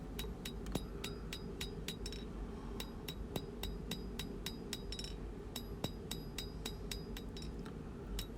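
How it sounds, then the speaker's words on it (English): A hammer strikes an iron blade as a distal taper is hand forged, producing a fairly regular run of sharp metallic clinks, a few per second, over a low workshop hum. "that's just due to me hammering in the distal taper"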